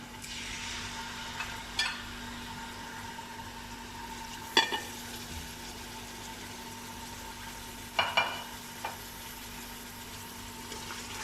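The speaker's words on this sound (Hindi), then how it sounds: "देखिए गोश्त का कलर हमारा चेंज हो गया, इसको हमने भुना है ऑयल में।" Goat meat browning in oil in a pot for Afghani gosht, a soft, steady frying hiss with a few sharp clinks and scrapes of a spoon against the pot, no talking.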